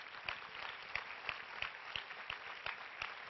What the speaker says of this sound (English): Sorry to interrupt the applause.